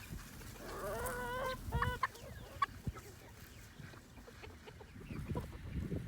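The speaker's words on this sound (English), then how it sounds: "Those are some happy chickens right there" Several chickens clucking and chattering close by on a hot July day, with short squawks and a busy rhythm of overlapping calls.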